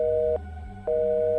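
A telephone busy signal follows a cut-off call: steady, loud, repeating beeps, with one tone ending and the next starting about half a second later, clean and alone.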